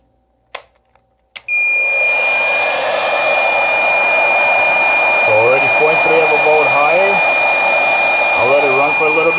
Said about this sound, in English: see how much that this prolonged us running this fan or hair dryer